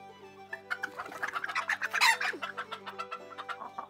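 Hens in a backyard chicken coop give a run of close, rapid clucks and soft calls in uneven bursts over a faint steady hum, with no talking.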